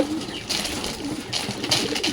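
Pigeons, among them a male Giribaz, coo softly and steadily at close range over a low, rustling background, with no talking.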